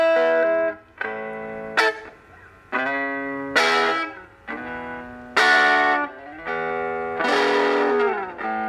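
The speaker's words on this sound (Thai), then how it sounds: "อาจจะติดเสียงแตกสักหน่อยฮะเสียงคลีนอ่ะคลีนลองฟังดูนะฮะ" A mini 5-watt guitar amp plays a clean, slightly gritty tone: a series of plucked chords and single notes, each ringing briefly before the next.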